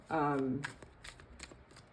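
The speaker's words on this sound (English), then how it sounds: "I'm just shuffling, and so whatever pops out, whatever comes out" Deck of cards being riffled and shuffled close up, a burst of rapid flutter followed by several short crisp card slaps; a voiced sound briefly overlaps the start.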